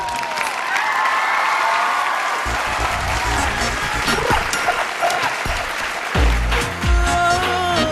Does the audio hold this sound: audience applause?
yes